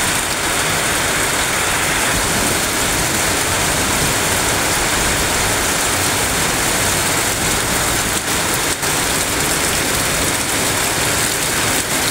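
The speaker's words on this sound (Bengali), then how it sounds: "এত বৃষ্টি দেখেছো বন্ধুরা, কত বৃষ্টি হচ্ছে।" Heavy monsoon rain pours near Howrah Bridge in Kolkata, a loud, dense, unbroken roar of water hitting surfaces with a faint undertone of traffic.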